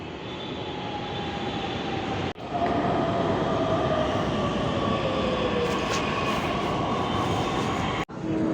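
Steady rumble inside a moving metro train in Pune, with continuous loud rolling and hum, a rising whine, and two brief dips where the sound cuts out momentarily.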